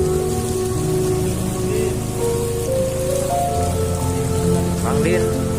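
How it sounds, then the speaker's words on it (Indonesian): Heavy rain falling in Alue Ie Mirah village, Aceh, amid flooding: a steady close patter of drops on a surface with a continuous hiss, plus tonal hums and a faint chirp-like sound in the background. "Dari pagi tadi hujan pun masih putus nyambung"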